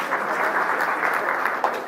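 Audience applause at an Amazon Ads Prime Day Summit business talk, a dense, steady wash of many hands clapping at fairly close range, sustained without pause and with no talk over it.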